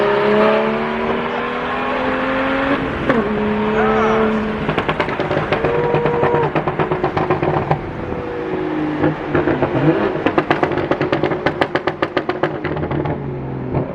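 A BMW 335i with a straight-pipe exhaust and a small tune accelerates hard, the engine note climbing through gears with loud crackling pops and rapid bursts toward the end, heard from inside the car with a voice speaking over it.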